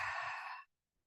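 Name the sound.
breath being exhaled during yoga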